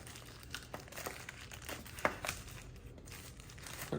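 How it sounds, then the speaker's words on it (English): Packaging around a Roku camera is ripped open by hand, giving close crinkling and tearing plastic or cardboard sounds in short bursts over a few seconds. "I'm just gonna have to rip it."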